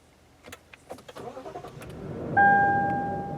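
A 2017 Lexus GX 460 engine cranks and catches via push-button ignition, preceded by a few soft clicks and rustles, then a steady, moderately loud idle with a sustained tone inside the cabin.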